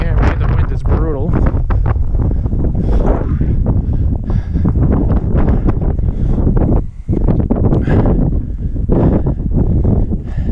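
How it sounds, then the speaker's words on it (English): Strong wind buffets a microphone outdoors on a cloudy day, a constant loud low roar and rumble throughout, with someone speaking and breathing heavily over it. "If you can hear me, the wind is brutal."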